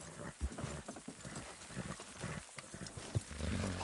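Horses in Red Dead Redemption 2 clip-clop steadily while straining to pull a load, their hoof knocks uneven and fairly close over a low background rumble, with no talking.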